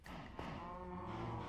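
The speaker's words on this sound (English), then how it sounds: "It's a lot of cows." Cows mooing in Minecraft, a low drawn-out bovine call with a rising tone, heard alone and fairly faint across a short moment.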